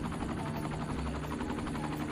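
A medical helicopter flies in the Cities: Skylines city-building game, giving a steady, fast rotor chop that stays at an even level throughout without a break.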